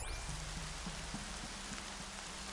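Steady rainfall in Horizon Zero Dawn on PS4, a dense, even hiss of rain hitting surfaces with scattered low thumps, continuous and fairly soft throughout with no talking.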